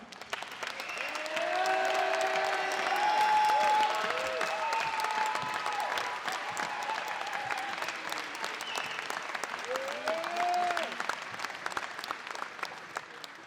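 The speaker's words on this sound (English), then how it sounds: "please stand up so we can all give you a round of applause" An audience applauds alumni volleyball players at a men's volleyball alumni day, a sustained wave of clapping that swells, peaks, and slowly tapers off.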